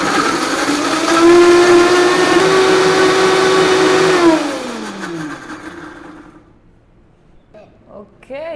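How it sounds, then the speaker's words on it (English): A Vitamix blender blends cookie paste with a loud, high motor whine that holds steady, then winds down and fades to near silence, ending with a few faint clicks. "Then I'm gonna close the Vitamix and I'm gonna stir it around."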